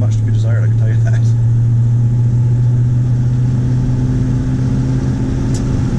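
A Ford Custom with manual brakes and steering pulls steadily up to highway speed for a merge, its engine a constant, close drone with a low hum under light road noise and talk throughout.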